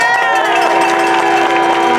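A rally crowd celebrating a state football championship legend cheers and claps loudly and continuously, dense shouting and whooping filling the whole moment.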